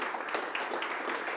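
Applause from a conference audience after an academic talk on online parsers, a brief, soft patter of many hands clapping at a distance for just over a second.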